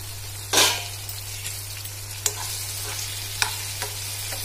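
Drumsticks for an instant drumstick pickle frying in a pan, with a low steady sizzle and a few sharp stirring scrapes of a utensil against the pan at irregular moments.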